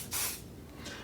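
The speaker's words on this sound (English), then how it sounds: "give it a test spray" An aerosol can, already shaken, gives a test spray before touching up a gouge repair in wood: a loud, short hissing burst, then a quieter pause and a second spray beginning near the end.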